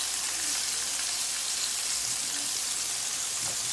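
Pieces of cut fish frying in hot oil for Guyanese-style fried fish, giving a steady, dense sizzle and crackle that fills the whole clip at close range with no talking.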